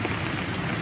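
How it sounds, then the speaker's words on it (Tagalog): Heavy rain beats down near a flyover in Imus, a dense, even patter on surfaces filling the brief moment at moderate loudness with no voices. "napakalas ng ulan"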